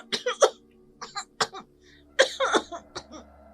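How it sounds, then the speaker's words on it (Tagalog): A sick child coughs in a series of harsh, wet bursts, several spaced coughs and fits close up, with a faint steady hum underneath. "isang ubong nakakikilabot pakinggan"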